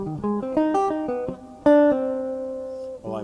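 Jazz guitar line played with a swing bounce, a quick run of plucked single notes leading into a long ringing note that fades, then a brief new phrase, clean and close with no talking.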